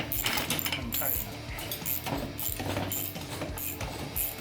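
A ratchet clicks rhythmically while a nut is tightened on a spinning shaft during work lowering an F-150 truck, mixed with mechanical whirring and a voice talking alongside.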